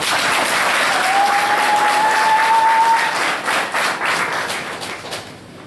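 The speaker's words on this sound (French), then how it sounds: "J'ai constaté que vous avez applaudi." A political party congress audience breaks into dense, sustained applause with a brief whistle cutting through, the clapping loud and even before gradually thinning toward the end.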